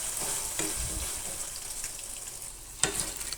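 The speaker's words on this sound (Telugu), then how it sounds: "తాలింపు బాగా వేగాలన్నమాట." Spices tempering in hot oil for temple-style tamarind pulihora sizzle and crackle close by, a soft continuous fry with a few sharper pops and a stir toward the end.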